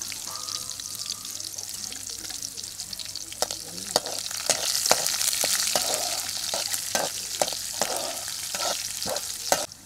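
Garlic fries in a pan of hot oil with a steady close sizzle, punctuated by sharp scraping clicks of a spoon stirring it, continuous throughout.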